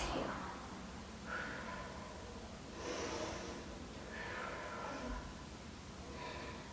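A person exhaling during a low-impact full-body workout, with several breathy, snort-like exhalations repeating every second or so, close and fairly quiet.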